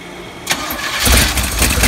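A car engine is cranked over for the first time after an engine swap: a half-second of quiet, then a sharp click, and a loud, steady whirring crank that runs on to the end.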